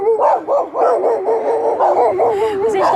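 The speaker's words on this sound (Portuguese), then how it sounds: "O cachorro tá latindo aqui." A dog barking and yipping close by in a rapid, continuous run of high-pitched barks lasting several seconds, loud and clear.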